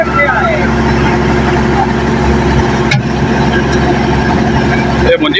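A small tractor strains to pull a trolley loaded with paddy that is stuck in the ground, its engine a loud, steady, close drone that barely changes throughout.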